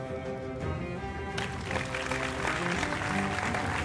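Audience applause at the Best of City 2025 awards ceremony, steady clapping from a crowd that grows fuller and louder partway through, continuous and moderately near.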